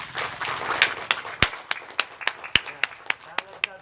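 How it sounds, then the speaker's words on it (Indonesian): A crowd claps at a Monday morning school flag ceremony, with sharp, uneven individual claps rather than a dense roar, close by and fairly loud, with voices mixed in. "tepuk tangan untuk dia dulu"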